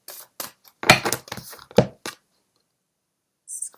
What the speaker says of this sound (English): I'm just going to shuffle and then I am going to pick a card